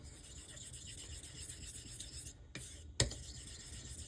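A straight razor is honed on a Les Latneuses coticule stone, giving faint, continuous rasping strokes, then a short pause and a sharp click.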